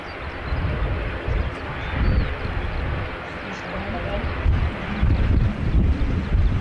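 Strong wind gusting across an open airfield at Christchurch Airport, a steady broadband roar with heavy low rumbling buffets swelling and easing, loud and close on the microphone throughout.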